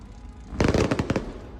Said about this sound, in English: They're setting off fireworks on the road,